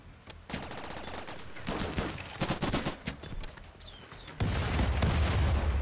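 A Rimworld video game battle with Empire forces: rapid bursts of gunfire and rattling automatic fire build up, then heavy rocket blasts boom loudly toward the end, with no voices.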